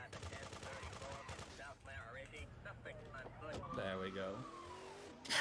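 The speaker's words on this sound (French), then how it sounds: "on sort la mitraillette dans la rue, on assassine deux flics" Machine gun fire on a street in Grand Theft Auto 2, a quiet rattle of rapid shots and vehicle noise sitting largely beneath someone talking over the game.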